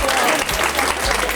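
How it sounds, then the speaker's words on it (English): A crowd at a body language talk bursts into loud, close applause, a dense burst of clapping that carries briefly with some low thumps. "Give her a round of applause."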